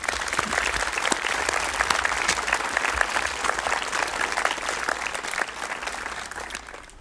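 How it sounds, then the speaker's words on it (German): A church congregation applauds at the close of a service honouring a departing youth worker: dense, steady clapping from many hands that fills the room and tapers slightly toward the end, with no speech over it. "Ich denke, da dürfen wir auch einen Applaus geben."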